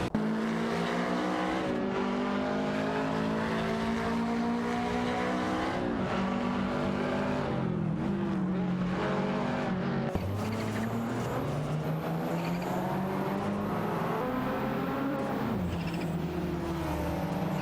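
Race cars lap a track, engines revving and shifting in loud, close, rising and falling bursts that overlap as cars pass, with no voices heard.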